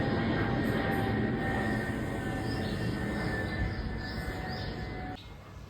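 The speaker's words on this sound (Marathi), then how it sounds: "प्लेन जातो आहे वरून तुम्हाला आवाज येत असेल" On a sunny morning, an airplane passes overhead with a steady, broad, distant roar that carries on evenly for several seconds, then falls away sharply near the end.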